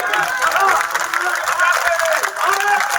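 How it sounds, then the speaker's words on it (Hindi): Applause from an audience on its feet after a poem is recited at a kavi sammelan at the Mahavir Jhanda fair in Sandila, a dense steady roar of clapping mixed with crowd noise throughout. "जिन्होंने खड़े होकर तालियां बजाई, उनका अभिनंदन करता हूं"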